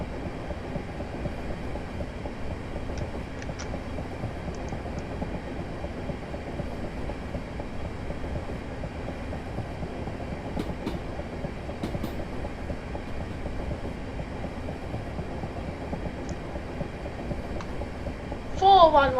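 A Southeastern train runs towards Orpington, a steady rumble and rattle heard from on board and carrying on throughout, with a brief louder clunk near the end.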